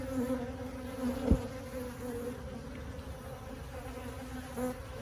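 A swarm of honeybees hums steadily around a hive box nearby, a continuous droning buzz with individual insects passing close now and then.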